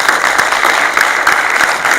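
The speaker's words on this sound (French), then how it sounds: "Un tonnerre d'applaudissements," An audience at the Innov'Action Vosges 2023 trade fair, closing an eco-mobility round table, applauds steadily and densely for about two seconds, the clapping loud and continuous with no voices on top.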